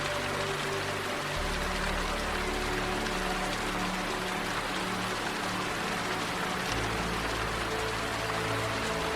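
Rain falls steadily on a surface, a dense, even hiss of countless drops with a soft low rumble beneath, continuous and unbroken, with no voices.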